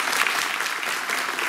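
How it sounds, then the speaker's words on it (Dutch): A studio audience at a Red Nose Day television broadcast applauds loudly and continuously, a dense steady wash of clapping with no voices over it. "Geef ze een groot applaus"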